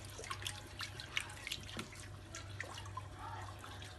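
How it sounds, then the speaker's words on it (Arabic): Milk is poured into a pan while making a white cheese sauce for pasta, a soft liquid trickle with small splashes and drips over a low steady hum, faint and close, without speech. "هنا غادي نحط الحليب ولكن ماشي كله، غنحط غير النص ديالو."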